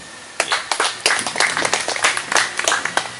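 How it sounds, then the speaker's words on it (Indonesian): An audience claps in applause, a dense, uneven patter of many hands that starts abruptly and carries on steadily before thinning out toward the end. "Kita berikan aplaus dulu"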